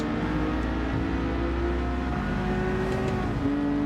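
Race car in a wet-weather racing video game powering out of a corner, engine note steadily rising under acceleration with a continuous droning tone and road noise.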